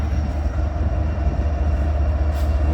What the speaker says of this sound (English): We're now outside as we see a BNSF coal train passing by